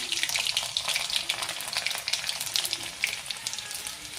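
Mustard seeds, cumin and garlic cloves sizzle steadily in hot oil while cooking whole masoor masala, a dense continuous crackling hiss with small pops, close and fairly loud, no voices.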